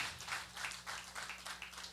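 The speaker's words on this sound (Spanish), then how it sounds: "Un aplauso fuerte, por favor, a Ana." A church audience applauds Ana after an interview. The clapping is soft and distant, a steady pattering over a low electrical hum, with no voices.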